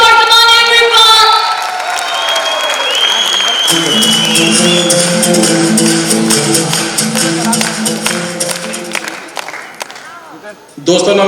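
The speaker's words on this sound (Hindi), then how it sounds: "एक बार जोरदार तालियां" A large crowd at a mega show in Raipur breaks into loud applause and cheering for a speaker, with the sustained clapping mixed with music and voices before it tapers off near the end.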